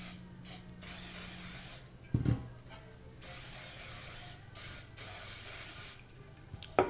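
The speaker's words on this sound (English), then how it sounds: "So I've got some non-stick cooking spray." Non-stick cooking spray hisses into a baking pan for banana bread in several close, loud bursts of varying length separated by short pauses, with a small clunk midway and no talking.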